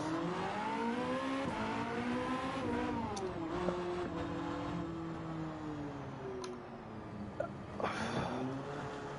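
A Gr.1 hypercar engine in Gran Turismo 7, a custom Audi-like design, drones steadily as it rises and falls through gear changes, loud and continuous, with a few faint clicks and no voices.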